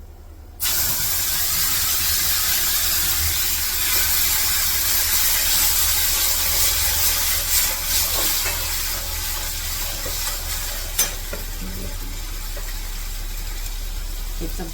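Water poured into roasted semolina for upma hisses and sizzles loudly and steadily, with a low hum beneath and a voice speaking over it.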